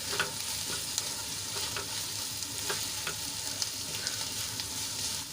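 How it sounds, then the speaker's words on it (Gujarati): Spices frying in a pan for a fenugreek and papad curry, with a steady close sizzle and soft stirring scrapes as a spatula mixes everything together. "બધા મસાલાને આપણે સરસ રીતે મિક્સ કરી લઈશું"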